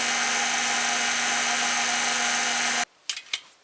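An electric mixer with a whisk attachment whips heavy cream, a loud steady whir with a constant pitch that runs for nearly three seconds and then cuts off, leaving a few soft clatters.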